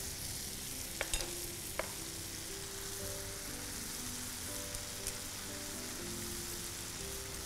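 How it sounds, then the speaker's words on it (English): Chicken bhuna masala cooking down with a little added water in a pan, a steady low sizzle with soft stirring scrapes and a few faint clinks, moderately quiet throughout with no talking. "And saute this till all the masalas are nicely cooked."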